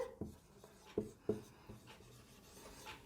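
Handwriting on paper, faint close scratches and a few sharper pen taps as letters are formed, quiet and uneven with no talking.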